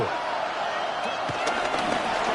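A Madden 26 video game crowd roars at a steady, loud level through a preseason Colts versus Bengals football game, with faint thumps and claps mixed in and a commentator talking over it.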